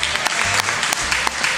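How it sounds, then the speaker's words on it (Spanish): Close, lively applause from a circus show audience, dense clapping with some sharper individual claps standing out and a faint low hum underneath. "un fuerte aplauso"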